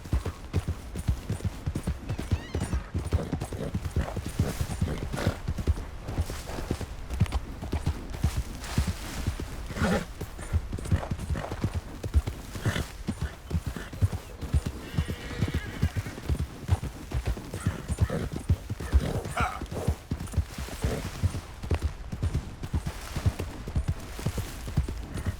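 In Red Dead Redemption 2, a horse's hooves clip-clop in a fast, steady rhythm for the whole stretch, with occasional neighs and snorts rising over the galloping.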